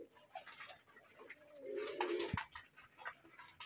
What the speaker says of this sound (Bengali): এই এক জোড়া সবজি কবুতর, এটাও সবজি কবুতর।